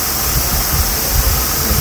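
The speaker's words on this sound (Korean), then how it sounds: "시끄럽게 윙 소리, 선풍기." Steady, loud electric fan whir filling the air inside a car during summer car camping, a constant broadband drone with a low rumble and no voices.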